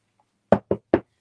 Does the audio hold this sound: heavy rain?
no